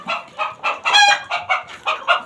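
Chickens cluck in a steady series of close, fairly loud calls, about eight short clucking bursts in quick rhythm with no talk over them.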